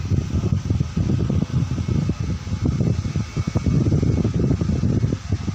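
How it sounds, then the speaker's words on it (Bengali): A repaired household electric fan runs steadily, its loud whooshing airflow and motor rumble continuous and close, with no talking. "দেখেন আমাদের ফ্যানটা কিন্তু রানিং হয়ে গেছে"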